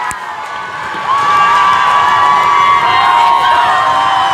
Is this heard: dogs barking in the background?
no